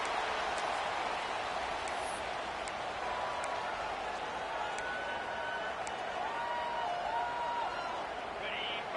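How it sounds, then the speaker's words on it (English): Roaring stadium crowd at a college football game between Oklahoma and Michigan, a dense, loud and continuous wash of cheering and yelling that holds steady throughout with no talk over it. "listen to this crowd noise. This stadium is vibrating."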